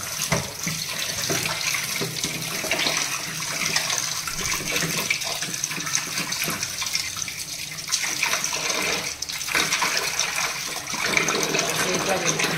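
Pieces of cut fish being rinsed by hand in water, with a steady rush and splash of running water that carries on throughout, close and continuous.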